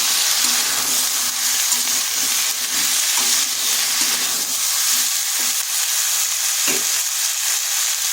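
Cut pumpkin and greens stalks sizzle steadily in a hot pan, a loud, continuous frying hiss with occasional soft clinks of stirring.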